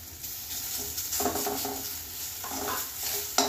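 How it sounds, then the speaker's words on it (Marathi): Ginger garlic paste and asafoetida sautéed in a pan, with a soft, steady sizzle and intermittent stirring scrapes, close and fairly quiet with no talk. "ही चांगली परतून घेऊया।"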